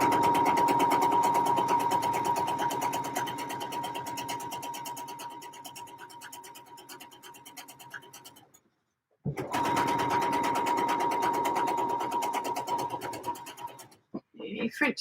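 A sewing machine stitches a French seam on a pair of trousers, running in a loud, fast, even whir, pausing briefly partway, then whirring again before stopping with a few soft handling knocks.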